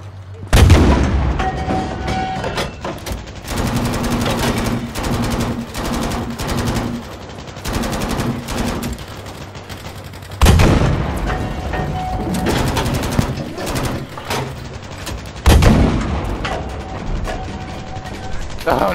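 Tank main cannon and gunfire in the Battlefield V video game, with heavy booms and bursts of automatic fire coming repeatedly in loud waves and short lulls, a continuous battle din throughout.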